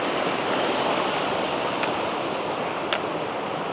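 A waterfall rushes in a Norwegian canyon on a sunny hike, a loud, steady broadband roar that fills the scene without letting up, with a couple of faint brief clicks over it.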